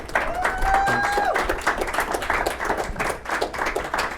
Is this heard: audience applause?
yes